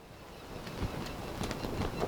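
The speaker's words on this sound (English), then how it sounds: "As always, I get the video camera out, it's quite windy" Faint wind rumbles and buffets against the microphone in a steady low roar with a few brief gusty swells.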